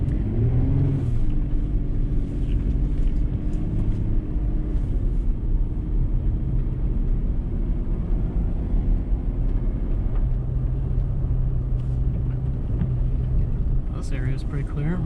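A 2018 Toyota 4Runner TRD Off Road with KDSS accelerating through snow, its engine a steady loud low rumble that swells and holds throughout, with a person talking over it.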